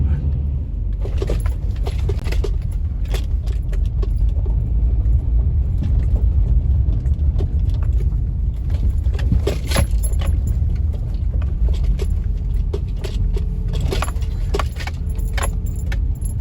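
A car travelling along a gravel road off route 1036 near Natural Bridge, Kentucky, gives a steady interior rumble with constant crunching and rattling throughout, close and loud.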